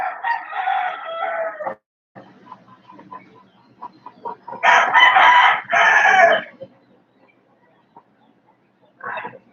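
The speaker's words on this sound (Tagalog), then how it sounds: "Yung manok alaga ni mama." Backyard chickens and a rooster kept as pets. The rooster crows loudly in bursts, with softer clucking between them and a short call near the end.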